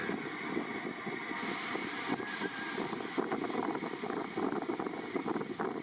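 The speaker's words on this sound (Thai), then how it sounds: "นี่ลมแรงนะครับ" Strong wind gusts beside the railway track at Ratchaprarop, producing a steady, blustery rumble and buffeting across the microphone for several seconds, with no one speaking.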